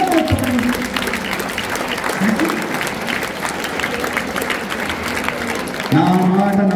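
An audience of students at a youth event in Tandur breaks into loud, sustained applause that fills the hall, with a voice speaking over the start and end of the clapping.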